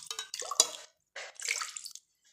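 Warm water splashes into a cup for baking at home in two short pours separated by a brief pause, each with a bright, close gurgling rush.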